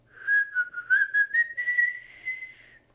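A single person whistles a short, wavering melody of a few connected notes, clear and close, with no talking over it.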